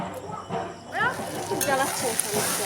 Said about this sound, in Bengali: ওই যে কচুরলতি ভাজাটা বসিয়ে দিয়েছি রসুন দিয়ে